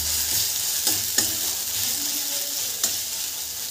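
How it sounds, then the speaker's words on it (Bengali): Ginger, garlic and chilli paste fries over very low heat in a karahi, a steady close sizzle broken by a few sharp scrapes of a spoon stirring it; no voices. "তো এখন এটাও কড়ায় কিছুক্ষণ পেস্টটা ভাজা হোক।"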